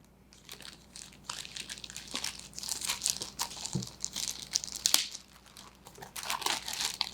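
Tape is peeled and crinkled off the plastic packaging of a 1/6 scale Green Arrow toy figure, with close, steady crackling and tearing rustles in bursts, fairly quiet with no talk.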